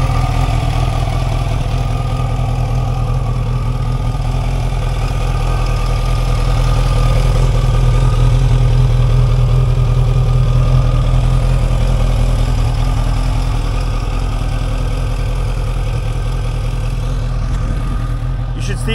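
The engine of a 1989 Kawasaki Ninja ZX-10 motorcycle, in poor condition, runs loud and close with a steady rumbling idle and slight fluctuation throughout, and a voice speaks briefly over it.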